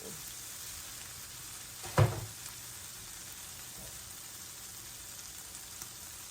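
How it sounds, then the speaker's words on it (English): Food sizzles as it is sautéed quickly in a pan for a fast home dinner, a steady, even frying hiss with one short utensil knock partway through and no talk. "sauteing it really quickly"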